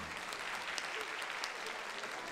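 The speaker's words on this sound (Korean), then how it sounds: "모두 놀라며 박수로 환호합니다" Audience at a Korean-Australian disability festival in Australia clapping and cheering after a dance performance, a steady dense wash of applause from a sizable crowd, continuous and somewhat distant.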